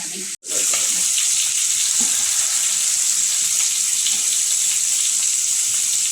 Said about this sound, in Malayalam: ഞാൻ ഇതിലേക്ക് ഇനി വെള്ളം ഒഴിക്കട്ടെ കേട്ടോ